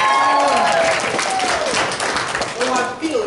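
An audience at a stage performance of Oklahoma cheers and applauds, a loud burst of clapping and voices over about three seconds, fading slightly near the end.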